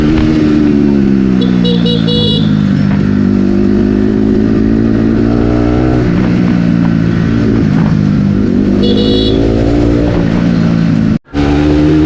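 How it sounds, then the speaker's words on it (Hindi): Bajaj Pulsar NS200 motorcycle on a night ride, its engine and exhaust droning steadily up close, rising and falling with throttle changes throughout, with a brief cutout near the end. "इंजन का साउंड मतलब एग्जॉस्ट का साउंड कैसा लग रहा है"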